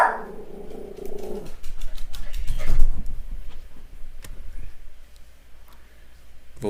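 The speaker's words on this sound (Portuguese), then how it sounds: "Só um minuto aí que minha cachorrinha doidou aqui." Small dog barking indoors, several sharp yaps in the opening seconds followed by scuffling and lower rough noises, moderately loud and close, with no talk over it.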